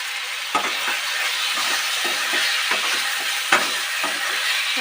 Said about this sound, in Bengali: এর মধ্যে আমি ভেজে রাখা ভেন্ডি আমি দিয়ে দেবো।